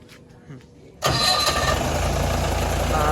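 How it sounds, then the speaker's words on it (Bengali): A JCB vehicle's engine starts abruptly after a second of quiet, catching at once and settling into a loud, steady, close-up idle rumble. "ইঞ্জিনও সাউন্ড খুবই খুবই ভালো"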